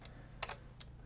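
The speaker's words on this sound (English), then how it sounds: "Now I can just hit the enter key and keep typing." Keys being typed on a computer keyboard, soft and close, with a few light clicks over about a second above a low steady hum.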